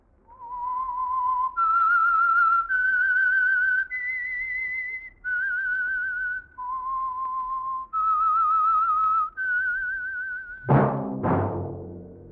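The 1948 radio program The Whistler's melodic theme whistled clearly in a sequence of sustained notes rising and falling, followed by a sudden loud, sharp burst of sound at the end.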